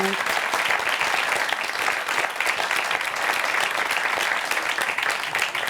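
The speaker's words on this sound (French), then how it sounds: "on peut vous applaudir" Steady, dense applause from a studio audience at a Corsican music show, continuous and loud throughout with no breaks, a faint voice barely present underneath.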